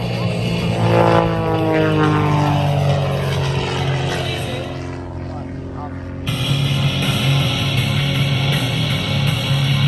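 A Pitts S1S Bumblebee biplane flying at the Lake Cumberland air show, its propeller engine droning loudly with a pitch that sweeps as it passes, dips briefly, then surges back, while an announcer talks over it.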